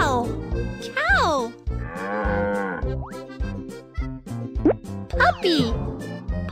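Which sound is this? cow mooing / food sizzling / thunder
cow mooing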